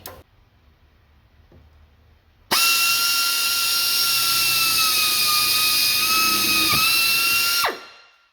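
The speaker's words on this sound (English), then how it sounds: "that's about where I want to drill my first hole" Power drill boring a hole through the metal of an aftermarket car side skirt on a 1999-2004 vehicle, a loud steady whine starting abruptly after quiet, holding for about five seconds with a brief dip, then winding down.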